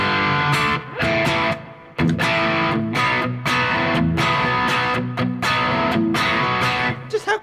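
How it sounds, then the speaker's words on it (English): Electric guitar through a TS9 Tube Screamer overdrive pedal into a Governor pedal and amp, playing dense, gritty driven chords in a steady rhythmic pattern, loud, saturated and continuous for the whole stretch. "How good does the tube screamer sound going into that?"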